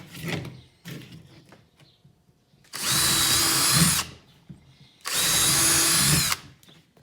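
Two loud bursts of a power drill whirring into wood lumber for about a second each, separated by quieter knocks and handling noises.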